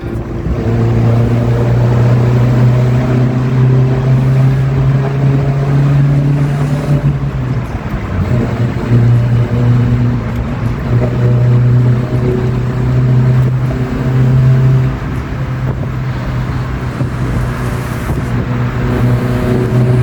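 A 1993 Mazda Miata NA with CX Racing headers drones loudly and steadily while driving, its engine note shifting and climbing in pitch partway through, with no talking over it.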